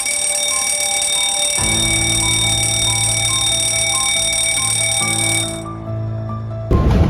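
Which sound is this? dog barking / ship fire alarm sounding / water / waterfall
ship fire alarm sounding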